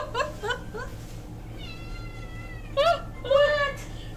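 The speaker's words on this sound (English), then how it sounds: "You're meowing at me." A house cat meows a few times in short, rising calls, the later ones louder and closer, under quiet background hum with game audio and a person talking nearby.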